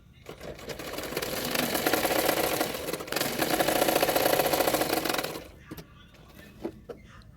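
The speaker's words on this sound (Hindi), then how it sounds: "मैंने 1/2 इंच मार्जिन रखते हुए सिलाई कर रही हूँ।" Sewing machine stitching a frock seam with a half-inch margin, a steady fast mechanical whir running near and loud for about five seconds, then stopping into quiet with a few faint clicks.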